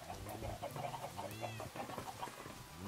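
Clucking from a chicken on a leash in a block-building video game, a run of short, close, repeated squawky calls alongside other animal-like game sounds.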